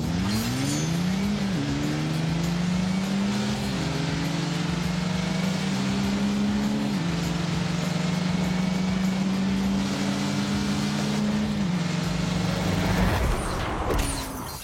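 A 2-litre turbo car revs hard accelerating in a race, its engine note climbing and shifting through several gears in stepped rises, continuous and fairly distant, with no talk over it.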